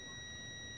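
A multimeter sounds its continuity beep across a working thermal protector, a steady high tone held for the whole brief moment, quiet and close.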